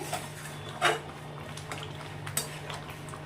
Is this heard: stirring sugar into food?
yes